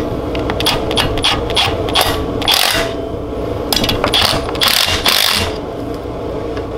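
Ratchet torquing down the magneto on a 196cc go-kart engine, a run of quick metallic clicking ratchet strokes in bursts, close up, with tool handling and no talk.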